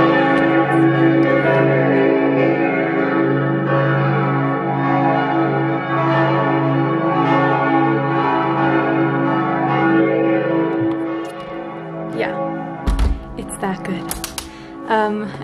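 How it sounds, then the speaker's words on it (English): Church bells peal in Schwäbisch Hall, loud and resonant with layered ringing tones that sustain for most of the stretch, then fade into scattered clatter near the end. "probably hear the church bells going off."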